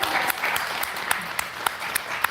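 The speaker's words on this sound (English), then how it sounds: "Let's clap our hands for that." Congregation applause in a church, a full, steady clapping from many hands with a few sharper individual claps standing out, close and fairly loud.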